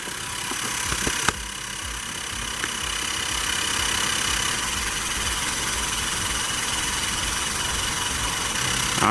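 Xiaomi and Baseus portable electric tire pumps running side by side to inflate scooter wheels, a steady close buzzing motor drone with a sharp click near the start and a constant hum throughout.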